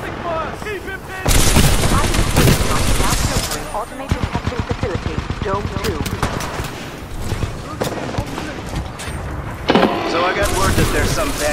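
Heavy gunfire from Titanfall 2 gameplay, with dense rapid automatic bursts and booming shots filling the scene, loud and continuous, while combat voices call out over it.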